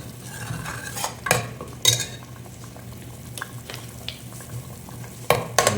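Prawn fry gravy simmering in oil in a pan, stirred with a utensil; soft steady bubbling and sizzle under a few louder scraping strokes of the spoon against the pan, close and alone.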